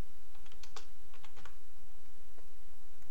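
Keys clatter on a computer keyboard as text is typed into a Windows NT 3.51 3D text screensaver setup, an irregular run of close, fairly quiet clicks in bursts with no talking.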